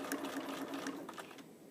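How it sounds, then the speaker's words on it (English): Sewing machine back stitching fabric while making a neck cooler chill tie, a brief steady whirring run of stitches up close with no voices. "don't forget you need to back stitch one more time to secure that stitch"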